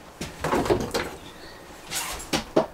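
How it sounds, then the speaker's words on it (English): Pocket door sliding in the bathroom of a 2023 Alliance Valor 21T15 travel trailer toy hauler, a few scraping, rolling swishes and light knocks in irregular bursts, close and moderately loud with no talk. "They do provide pocket doors for both of these areas"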